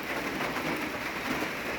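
Steady rain pours down in rural Laos at the start of the rainy season, a dense, even hiss with no pauses, close and moderately loud throughout.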